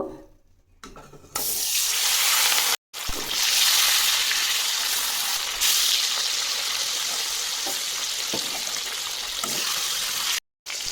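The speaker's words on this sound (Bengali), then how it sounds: "কড়াইয়ের তেল গরম হয়ে গেছে, এবার আমি একটা একটা করে মাছ দিয়ে দেব" Pieces of hilsa fish fry in hot oil in a wok, giving a loud, steady crackling sizzle that keeps going with only a couple of brief cut-outs.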